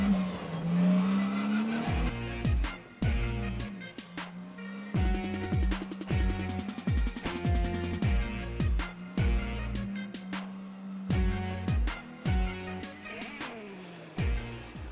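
Mini race car on the Albi festival circuit, loud and close, engine revving hard through repeated rapid gear changes, each shift cutting the note before it climbs again, with no talk over it.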